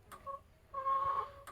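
Backyard chickens cluck in two short bursts, a brief call and then a longer sustained one, fairly close and clear against quiet outdoor background.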